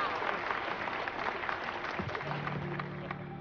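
A crowd at a corporate evening event applauds steadily as a company CEO is welcomed onto the stage. The clapping is dense and moderately distant, and a low hum and a voice come in toward the end.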